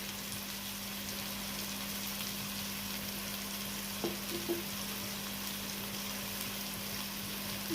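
Crab frying in a pan with chili and cumin powder gives a steady, fairly quiet sizzle with a constant hum beneath, broken by a couple of soft stirring clicks around the middle.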